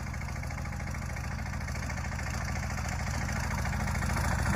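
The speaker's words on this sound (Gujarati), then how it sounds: "જો રાજુભાઈ ટ્રેક્ટર હાથી આકે છે સીડામાં" A small tractor engine runs steadily nearby, a loud rhythmic low chugging with a constant idle-like pulse throughout.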